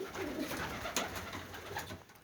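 Pigeons, including a tippler, coo softly inside a loft, faint low murmuring calls amid quiet background noise.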